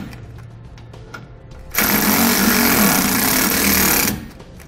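Impact wrench or power tool driving bracket bolts for Air Lift LoadLifter 5000 air helper springs on a 2017 Ford, a loud steady buzzing burst lasting about two seconds, close by, after a quieter stretch.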